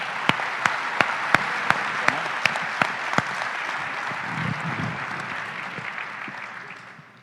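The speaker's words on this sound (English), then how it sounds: "So a round of applause for the panelists." Audience applause for conference panelists, dense and sustained with a few sharp individual claps standing out early, then slowly fading away.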